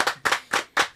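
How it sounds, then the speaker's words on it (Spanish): An audience greeting an architect with applause: four distinct claps spaced evenly across the second, crisp and close, from a small group rather than a large crowd. "un aplauso para él"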